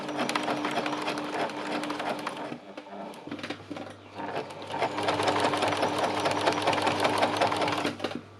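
Sewing machine stitching fabric around a seam in a steady rapid whir that pauses briefly midway, then resumes, loud and close with no talk.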